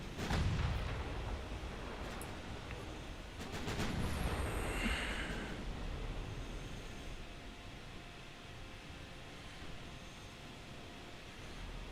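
Naval gunfire in Ultimate Admiral Dreadnoughts, a warship duel against a battleship: heavy cannon blasts land near the start and again around four seconds, followed by rolling, rumbling booms and a long, hissing wash of sea and engine noise.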